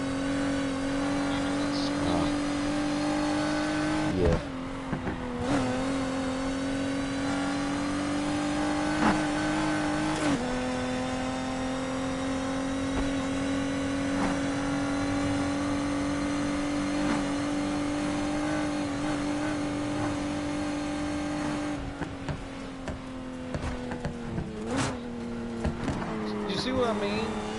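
Engine-swapped six-cylinder Camaro with a screw supercharger revving hard in a PS4 racing game, a sustained high supercharger whine holding pitch through long pulls, dipping at gear changes, with occasional tyre noise and brief talk over it.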